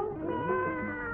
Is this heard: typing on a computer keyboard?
no